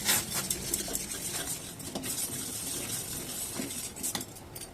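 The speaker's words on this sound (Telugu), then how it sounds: "చూడండి పాలు అయితే మరుగుతున్నాయి. మనం దీన్ని ఇలాగే కలుపుదాం." A spoon stirs boiling milk in a metal pot while making payasam, soft scraping swirls and occasional light clinks against the pot, quiet and close, with a faint bubbling simmer underneath.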